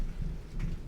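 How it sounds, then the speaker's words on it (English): A low rumble of thunder rolls under steady rain hissing on surfaces, brief and fairly faint. "and there's thunder"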